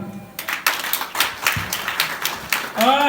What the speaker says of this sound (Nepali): है ताली बजाएको।